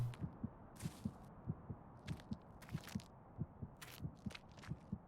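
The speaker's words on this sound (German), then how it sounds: "das Herzklopfen" A heartbeat effect from the horror video game The Cursed Forest: a steady, low double-thump pulse repeating about twice per second throughout, with faint crackling game ambience and occasional brief bright clicks in the background.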